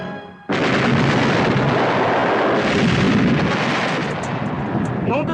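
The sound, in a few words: cannon fire after the order to fire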